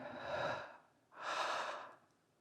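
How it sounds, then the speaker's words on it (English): Slow, deep breaths taken by one person during a guided breathing exercise: two long, airy breath sounds of about a second each, separated by a short pause, close and fairly quiet with no talking. "Are you breathing together with me?"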